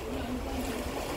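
A ferry under way after leaving Merak port, giving a steady low engine drone with a wash of water and wind throughout one short continuous stretch.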